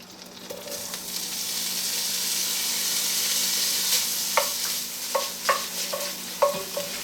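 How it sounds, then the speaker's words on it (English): Ham sizzles steadily in butter inside a Dutch oven, a continuous frying hiss broken near the end by several sharp scrapes and clinks of a stirring utensil. "We're going to start by sauteing the ham first for about 5 minutes."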